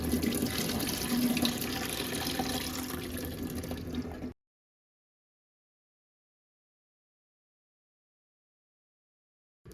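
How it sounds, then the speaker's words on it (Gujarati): Tap water running over bitter gourds (karela) being rinsed by hand in a kitchen sink, a steady splashing stream for about four seconds, then sudden silence. "વધારે 2 પાણીથી આ કારેલા આપણે ધોઈ લેશું"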